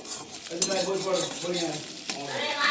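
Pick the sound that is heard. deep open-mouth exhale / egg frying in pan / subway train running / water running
egg frying in pan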